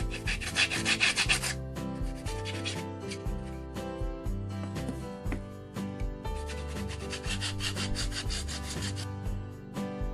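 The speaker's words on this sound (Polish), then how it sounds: "Zbędne brzegi serwetki usuwam za pomocą papieru ściernego." Sandpaper rubs away excess napkin edges along a decoupaged wooden tea box lid, giving repeated scratchy strokes in two longer bursts beneath steady background music.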